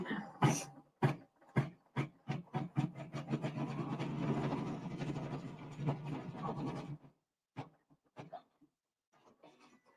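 An embroidery sewing machine stitches a heirloom feather design, passing over the same line twice. It starts with quick rhythmic stitch bursts, runs steadily for a few seconds, then stops, leaving a few scattered clicks and handling noises.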